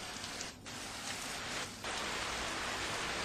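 Heavy rain pours steadily in Uttarkashi, a dense, even hiss of falling water with two brief dips in intensity, no voices present.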